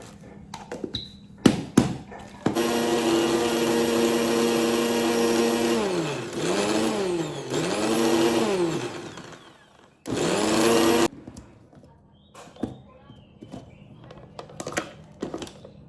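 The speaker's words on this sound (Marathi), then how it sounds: "आपला मिक्सर लावून घेते." A kitchen mixer grinder whirs loudly as it grinds garlic with a little water into a masala paste for a spicy dry chicken dish. It runs in several bursts with rising and falling pitch, stopping briefly and restarting, with clicks and handling noises after.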